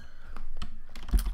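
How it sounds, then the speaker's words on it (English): Keys pressed on a computer keyboard while working through Blender shortcuts, several soft clicks close to the microphone ending in one sharper, heavier keystroke. "you want to hit N on your keyboard"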